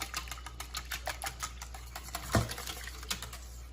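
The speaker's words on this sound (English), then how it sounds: "Whisk that up." A whisk rapidly clicking against a bowl while mixing Kahlua, Bailey's, cinnamon, vanilla and almond extract, making faint, quick, rhythmic taps with one sharper knock midway.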